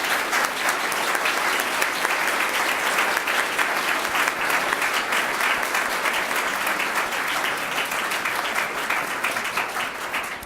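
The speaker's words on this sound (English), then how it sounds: "now I'm going to lift my ban on applause, because I think we all want to thank the candidates very much" An audience at a Board of Education candidate forum gives sustained, even applause for about ten seconds, dense clapping from a full room with no talk.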